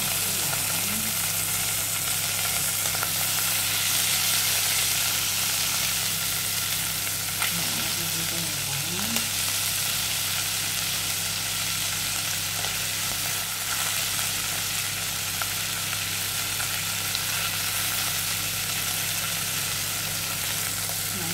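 Sliced ampalaya (bitter gourd) frying in a pan, giving a loud continuous sizzle with occasional stirring scrapes and no break throughout.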